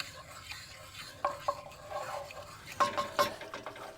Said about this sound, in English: make sure that we have any burnt little pieces of meat scraped off the bottom of the pan